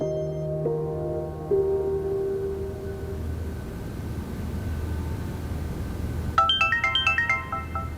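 A phone ringtone plays a melodic electronic tune, then a brighter series of rapid chiming notes rings out near the end over faint background hum.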